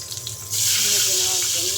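Eggs dropped into hot oil with a little turmeric in a frying pan, a loud steady sizzle bursting in suddenly after a quiet start and holding close and bright to the end.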